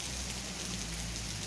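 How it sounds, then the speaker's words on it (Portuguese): Steady rain falls in Currais Novos, Rio Grande do Norte, as a dense, constant hiss of drops hitting surfaces. It stays even and fairly loud for the whole stretch, with no voices. "A chuva chegou de vez aqui na nossa cidade."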